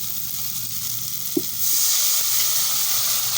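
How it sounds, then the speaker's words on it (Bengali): Chili and tomatoes frying together in a pan, a steady close sizzle that grows louder and brighter about halfway through, with a brief clink or stir of a utensil. "এক চামচ লঙ্কা, তিন কোটা টমেটো, সবগুলো একসাথে দিয়ে ভালো করে কষতে থাকবো"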